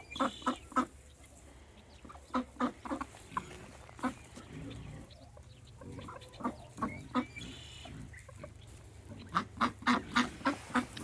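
Bursts of duck quacks come in quick rhythmic runs, pausing between groups, with a quiet outdoor background.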